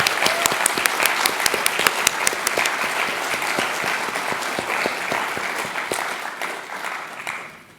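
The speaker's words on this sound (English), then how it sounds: "Can we have another round of applause for Dr." An audience claps steadily for Dr. Ben Santer at the Stephen H. Schneider Memorial Lecture, a dense, even round of applause that holds for several seconds and then tapers off at the end.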